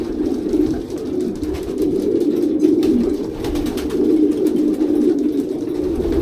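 Racing pigeons coo in a loft, a continuous low warbling chorus from several birds close by, steady and fairly loud with faint rustling throughout.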